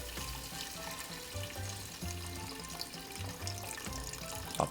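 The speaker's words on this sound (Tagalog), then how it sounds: "At dahan-dahan lang natin ibubuhos dito yung tubig." Water poured slowly into a hot pan of chicken and soy sauce for pancit canton, giving a continuous bubbling, splashing sizzle with a faint utensil clink at the end.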